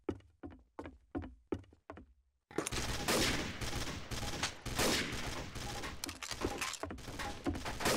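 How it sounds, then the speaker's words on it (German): Gunfire in the video game Trouble in Terrorist Town: five evenly spaced single shots, then a loud, dense stretch of rapid continuous firing. "Wer schießt denn hier? Ich schieß."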